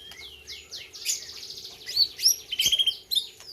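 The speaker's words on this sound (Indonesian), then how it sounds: "Suara kenarinya." A canary sings a fast, bright warbling song of trills and high chirps, fairly close, with no voices.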